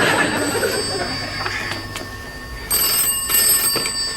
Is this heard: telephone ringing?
yes